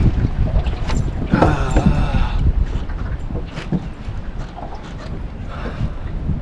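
Wind blows steadily across an open boat during spring bass fishing, a broad low rumble of buffeting against the microphone with scattered water splashes and faint mechanical knocks throughout.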